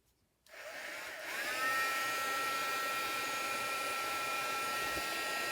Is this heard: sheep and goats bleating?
no